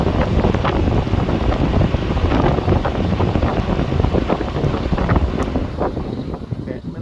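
A Contour/Focus hybrid dual fan runs at high speed, producing a steady, loud rushing whoosh of moving air that holds unbroken and close throughout, with no pauses or changes in intensity.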